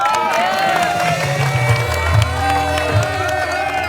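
Studio audience on an Indonesian comedy show cheering and applauding, a dense crowd roar with whoops mixed with music and voices throughout.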